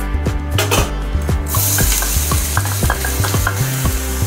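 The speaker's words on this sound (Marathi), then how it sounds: "आता तेल छान गरम झाल्यानंतर आपल्याला मोहरी टाकायची आहे" Mustard seeds crackle in hot oil in a pan, a close burst of sizzling with rapid, repeated sharp pops and light metallic stirring clicks.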